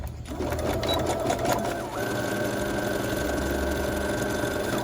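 A sewing machine stitches paper pillow pouches for candies, its motor whirring steadily and closely for nearly five seconds, with a short pitch change partway through as it switches to back stitching.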